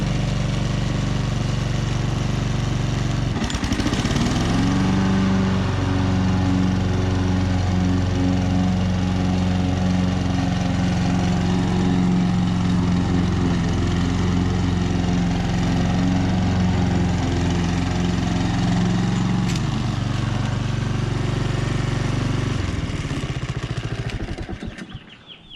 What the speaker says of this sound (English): Let's move on to the Honda. All right, got it running.